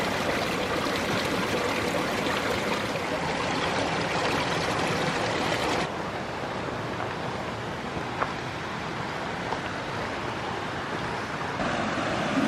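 A mountain creek rushing steadily nearby at a trail crossing in a granite-mountain meadow, a constant broad wash of flowing water with no voices.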